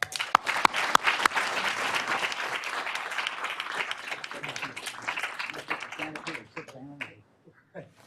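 An audience applauds to welcome the chairman as keynote speaker at a luncheon, sustained clapping at moderate volume with a few sharper claps early on, tapering off near the end as a voice begins.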